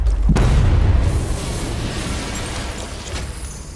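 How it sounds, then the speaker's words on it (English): A detonated explosive blast at a vault in Batman: Arkham Knight, a loud booming explosion that hits after a short pause and leaves a long rumbling tail fading slowly. "I need to be at a safe distance before I detonate."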